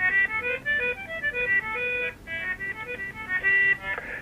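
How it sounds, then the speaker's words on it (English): A concertina, a small free-reed squeeze-box accordion, plays a lively run of bright, reedy notes and chords. It is heard clearly and alone, with short breaks between phrases. "a concertina is sort of like a squeeze box accordion thing"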